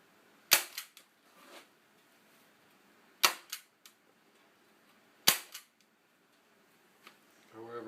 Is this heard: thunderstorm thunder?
no